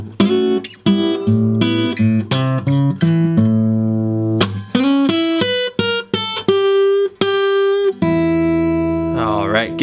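An electric-sounding guitar plays a blues lick in E, a quick run of plucked notes and short bends ending on a sustained note, loud and close with no talking.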